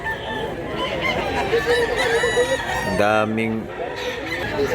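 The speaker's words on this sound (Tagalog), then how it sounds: "Daming manok dito mga idol." Chickens and roosters at a poultry market in Mantalungon, Cebu: a rooster crows loudly and nearby over a constant bed of clucking and clamor from many birds, with background voices mixed in.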